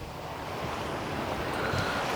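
Sea waves wash continuously onto the shore at Cox's Bazar beach after dusk, a steady broad rushing surf with some wind noise, no voices.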